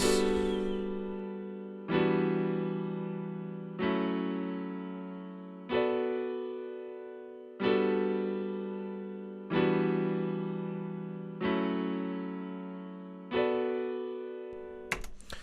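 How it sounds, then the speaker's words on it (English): Grand piano chords struck one at a time, about every two seconds, each ringing and slowly decaying before the next, with no other instruments. "the main thing we have going on here is this grand piano"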